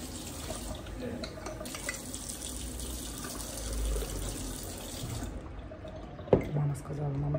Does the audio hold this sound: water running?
yes